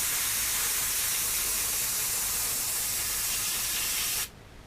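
A spray gun blasts cleaner through its bowl in one loud, steady hiss that holds for about four seconds and then cuts off abruptly, leaving only faint room noise.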